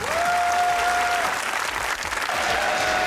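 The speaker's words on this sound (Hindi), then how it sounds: "तालियां।" Studio audience applause on a Pakistani comedy talk show, a loud sustained burst of clapping lasting a few seconds, with a brief tonal whistle or feedback tone sitting above it.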